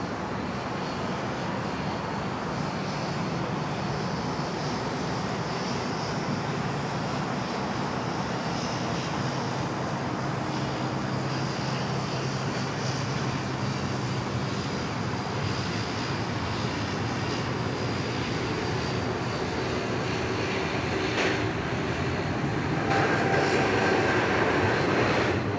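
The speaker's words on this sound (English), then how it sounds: "Our next one to go, here we go, Air India 302 heading back to New Delhi this morning" An Air India Boeing 787 Dreamliner takes off from Sydney Airport, its jet engines a steady, broad distant roar sustained throughout with no voices.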